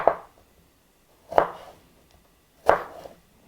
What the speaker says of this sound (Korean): 썰기를 하고 채를 썰어줄 겁니다